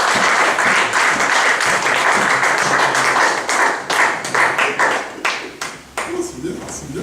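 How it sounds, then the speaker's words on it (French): A church congregation applauds during a French-language sermon, rhythmic clapping loud and close. The claps grow more uneven toward the end, with voices mixed in. "Applaudissons le Seigneur."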